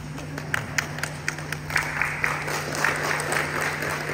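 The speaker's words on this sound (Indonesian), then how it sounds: "Oke, tepuk tangan." An audience at an indoor health testimony gathering claps, starting with a few sharp separate claps that quickly swell into fuller, steady applause.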